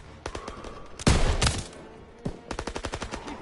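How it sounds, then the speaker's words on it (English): Machine guns open fire in a World War II battle scene: a rapid close burst, then a loud heavy blast, then another fast string of sharp shots. "MGs, open fire."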